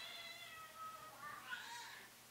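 A young girl playing pretend meows like a cat, her voice imitating the sound in a few drawn-out, wavering mews heard fairly close from just behind a door indoors.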